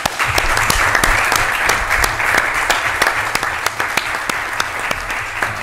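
Sustained enthusiastic applause from an audience at a municipal council installation in Limas, dense hand clapping with sharp individual claps standing out, loud and continuous throughout.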